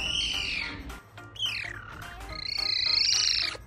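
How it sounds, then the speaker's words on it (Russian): A young caracal gives high, bird-like chirps and wavering squeaky calls, several in a row, close and clear with little else around them. "Когда они маленькие, они чирикают,"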